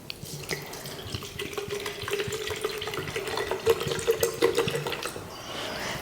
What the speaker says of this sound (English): So we're going to pour this into our watering can.